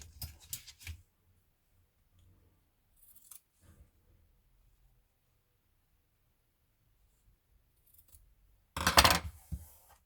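Scissors snipping thread in a quiet room, a few short crisp cuts at the start, a couple of faint clicks midway, and a louder burst of snipping near the end.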